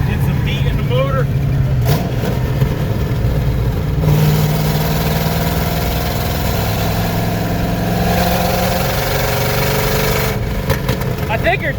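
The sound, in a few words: junkyard Ford Mustang Foxbody engine running and revving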